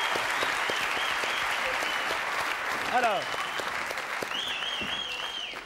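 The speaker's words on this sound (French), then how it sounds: "Applaudissements pour lui" Studio audience applause on a French television talk show, a dense steady wash of clapping sustained throughout, with a host's voice briefly speaking over it near the end.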